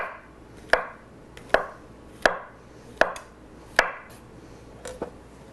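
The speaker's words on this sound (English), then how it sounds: "I am going to just cut up some portobellos" A knife cuts portobello mushrooms into thin slices on a board, six crisp, evenly spaced chops landing about once every three-quarters of a second, close and clear over a quiet background.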